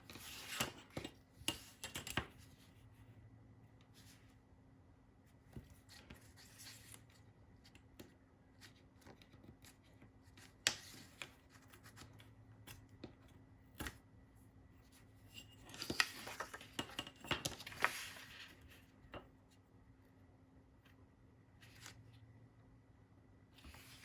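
Paper being torn by hand for a grungy crafted pocket, heard as several scattered ripping and rustling bursts at close range, with a longer run of tearing partway through and quiet handling between.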